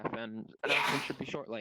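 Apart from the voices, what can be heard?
sneeze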